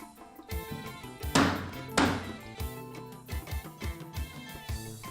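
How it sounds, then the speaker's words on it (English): A hammer drives a wall panel into place against a wooden block, giving a few sharp close knocks amid lighter taps and thuds. "knock it into place."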